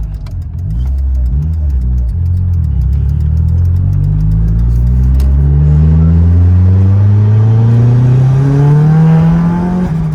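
A turbocharged Mitsubishi 4G93 SOHC engine in a car revs up hard and climbs steadily in pitch through a long, loud acceleration pull, with a deep rumble throughout.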